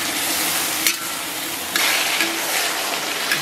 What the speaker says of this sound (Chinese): 这时候开大火，咱们给它爆炒一下